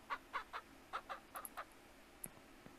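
Chickens clucking in a coop on a ranch in Ranch Simulator, a series of short rhythmic clucks at a moderate distance, quiet and sparse against a low steady background.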